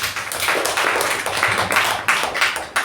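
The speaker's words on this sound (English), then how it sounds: "Let's give her a huge round of applause." A meeting audience claps for a speaker, a dense, loud round of applause from a room of people that runs throughout and swells and dips slightly before trailing off.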